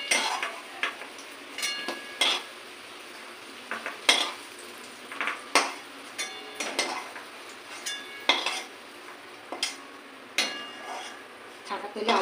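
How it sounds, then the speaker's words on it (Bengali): Potato slices deep-frying in hot oil in a home kitchen, with scattered clinks and scrapes of tongs and utensils against the pan over a soft, steady sizzle. "ছাকা তেলে আলু ভাজা হয়ে গেল।"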